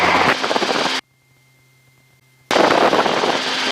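A small airplane engine at takeoff power, a loud, dense roar that cuts out abruptly to near silence for about a second and a half, then returns just as loud and steady.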